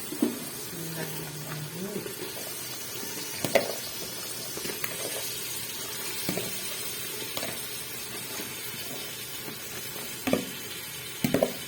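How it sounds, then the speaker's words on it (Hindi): Chopped potato, carrot, peas and fenugreek sizzle in a pan for a Punjabi-style sabzi, giving a steady soft hiss broken by a few clattering knocks. "सारी सब्जियाँ जो हमने काट के रखी है ना ये डालेंगे इसमें।"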